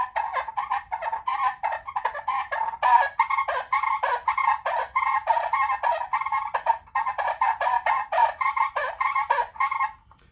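A rapid, raspy string of turkey-like calls, a person imitating two birds squabbling, loud and close with no pauses until it stops abruptly.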